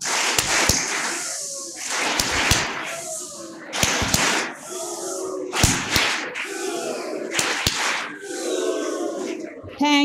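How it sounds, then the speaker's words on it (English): Delegates at a medical conference hall in Bhubaneswar perform rocket claps, loud sharp unison claps in a steady rhythm with shouted whooshing voices between them, fairly close and filling the room. "the command for our delegates, rocket claps, go"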